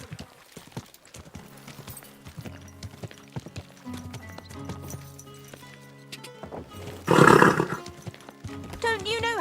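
Horse hooves clip-clop along in the medieval video game Kingdom Come: Deliverance II, an irregular trotting rhythm with a loud snort or whinny burst partway through, mixed with game ambience.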